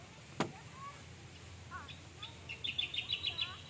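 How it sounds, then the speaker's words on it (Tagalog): A bird sings outdoors on a farm, starting with a few scattered calls and ending in a quick run of high, bright chirps, faint against a soft background hum. "Ang ganda ng tunog ng ibon."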